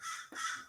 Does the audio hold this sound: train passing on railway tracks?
no